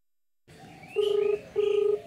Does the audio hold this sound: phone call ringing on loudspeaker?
yes